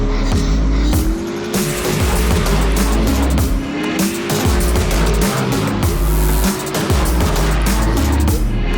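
Race cars at full speed on the Lucas Oil Speedway track during a Mid America Racing event, a loud, continuous roar of several engines with tire squeal as they battle into the last corner before the finish line.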